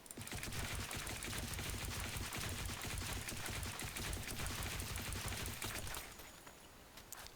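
A rifle in Counter-Strike: Global Offensive fires in a dense, continuous full-auto burst of loud rapid shots, then cuts off near the end, leaving a quieter tail.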